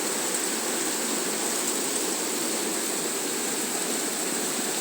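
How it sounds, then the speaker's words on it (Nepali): Rainwater rushing like a stream along a city street in Kathmandu at night, a steady, even wash of flowing water and rain noise at moderate distance, with no talk. "पानी यसरी चाहिँ खोला बगेको छ तपाईँको"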